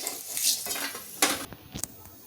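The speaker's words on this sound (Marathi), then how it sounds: "आता मी तेलात जायपत्री तळून घेते" Mace frying in hot oil in a small pan, with a soft sizzle and a few light clinks and scrapes of a spoon, close and quiet with no talking.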